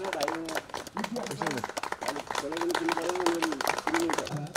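Audience applause at the opening of a badminton event held for Karnali Province Assembly's fourth foundation day, steady clapping running throughout beneath a voice speaking over it.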